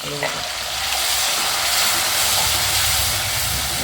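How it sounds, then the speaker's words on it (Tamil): Loud, steady sizzling of citron pieces frying in hot oil for narthangai pachadi, a constant crackling hiss throughout with occasional stirring. "நல்லா வதக்கிக்கிறேன்"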